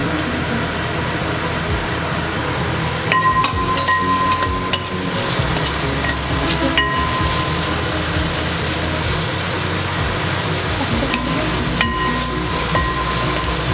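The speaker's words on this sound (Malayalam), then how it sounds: "ഇതിലേക്ക് സവോള അരിഞ്ഞു വെച്ചിരിക്കുന്ന സവോള ചേർത്ത് കൊടുക്കാം" Chopped onions sizzle in hot oil as a loud, continuous close-up hiss with brief crackly bursts and a faint steady tone in the background.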